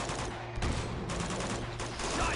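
Gunfire in the Uncharted 2 video game, heard as repeated bursts of rapid shots at moderate distance, fairly quiet and mixed with game ambience.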